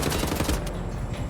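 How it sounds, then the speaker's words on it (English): Rapid automatic gunfire from the first-person shooter Wolfenstein: The New Order, shooting a Nazi soldier; a dense, loud, continuous burst of shots fills the brief moment. "Let me shoot this Nazi."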